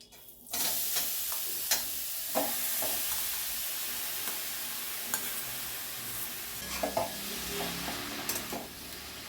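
Grated carrot fries in ghee in a wok, a soft steady sizzle with scattered clicks and scrapes of stirring, fairly quiet and without speech.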